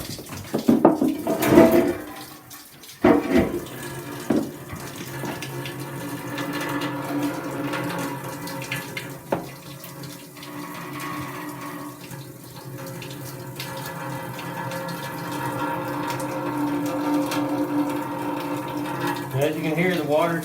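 Water runs out of a disconnected plumbing line into a pan below, a continuous splashing trickle close by, with a few clanks and knocks of pipe handling over it.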